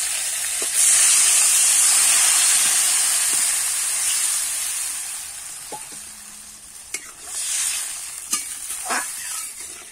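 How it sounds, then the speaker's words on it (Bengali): Water poured into a hot pan of lightly fried drumstick stems and potato for a fish curry, bursting into a loud steamy hiss that slowly fades, with a few clinks and stirring scrapes toward the end. "এবারে কিন্তু আমি একটু জল দিয়ে দেবো।"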